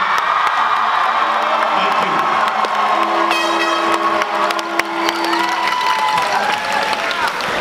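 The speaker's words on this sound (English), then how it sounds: "I want to give a huge big round of applause for all of our leadership under the direction of Mr. Moran." A large crowd at a school celebration claps and cheers loudly and continuously, with whoops and children's shouts mixed in and voices audible beneath the applause.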